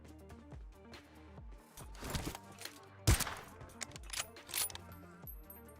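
A battle royale video game firefight plays out with a sharp AWM sniper rifle shot among several other gunshots and mechanical clicks. The shots come at irregular intervals over a musical game background.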